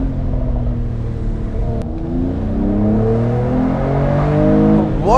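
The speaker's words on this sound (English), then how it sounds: "Listen to the pops and crackles." Mercedes-AMG E53 Cabriolet engine revving loudly through paddle-shifted gears, its rising and falling exhaust note carrying throughout, with a burst of crackle near the end.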